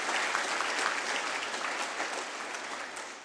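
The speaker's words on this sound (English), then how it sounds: "a round of applause" An audience at a school academic awards ceremony for years 4 to 11 applauds, a steady, full wash of many hands clapping throughout that fades slightly at the end.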